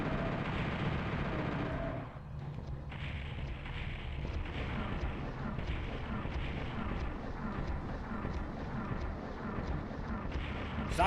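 Rocket explosions roar in the PS1 Doom Master Edition game, a dense continuous rumble of blasts and booms with game noise throughout, loud and unbroken, without talk.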